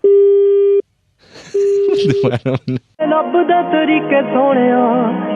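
Telephone busy tone pulses in steady beeps after a line cut, broken by a short burst of talk and a brief gap before music-like tones take over; the beeps are loud and close.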